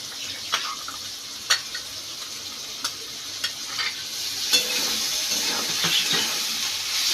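A ground masala paste of green chilli, poppy seed, mustard, whole cumin and ginger fries in a pan with a steady close sizzle, broken by sharp scrapes and clicks of stirring at irregular intervals.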